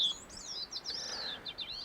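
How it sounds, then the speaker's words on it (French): Bicknell's thrush singing on a mountain slope in Quebec's Monts Valin, a thin, high, wavering song of rising and falling whistled phrases, fairly clear against a quiet background. "on peut la distinguer des autres grives par son chant"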